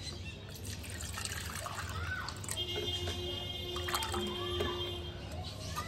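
Water trickles and splashes while being poured into a pigeon drinker in a breeding setup, a steady close liquid sound with a faint hum and occasional birdlike tones in the background.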